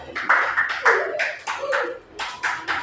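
A class of schoolchildren claps together in a quick rhythmic pattern, with sharp bursts of claps mixed with children's voices chanting along in time.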